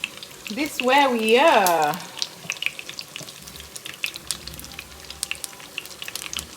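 Chicken pieces frying in their own rendered fat with no added oil, a steady crackling sizzle running under the whole stretch while a voice talks over the start.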